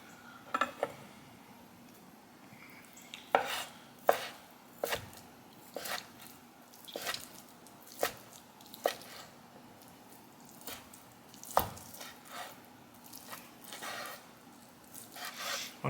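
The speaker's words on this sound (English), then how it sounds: "gonna do like some bite-sized pieces. Just a rough chop." A not very sharp kitchen knife roughly chopping chicken into bite-sized pieces on a board, a series of irregular close knocks and thuds spaced across the stretch, no talk.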